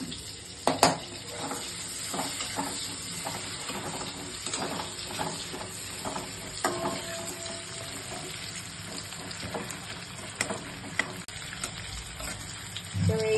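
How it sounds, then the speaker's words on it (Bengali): Chopped onion frying in hot oil with garam masala while a Bengali prawn malai curry is being cooked, giving a steady sizzle with scattered stirring clicks and scrapes of the pan throughout. "আমি অল্প করে পেঁয়াজ কুচনো দিচ্ছি।"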